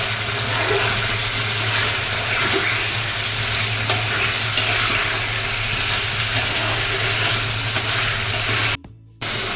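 Chicken and onions sauté in a pan with a steady, close sizzle and occasional spatula scrapes. A low hum runs underneath, and the sound cuts out briefly near the end.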